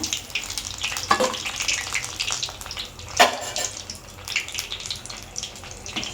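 Brinjal bajji fry in hot oil, a bubbling, crackling sizzle close up with a couple of sharper splashes and scrapes as the fritters are lifted out.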